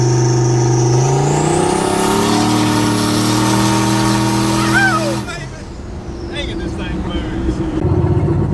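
Turbocharged 4.8-liter LS V8 car with a billet 7875 turbo accelerating under boost, a loud rising engine note with spooling turbo whine climbing for about five seconds before abruptly lifting off into quieter road and wind noise.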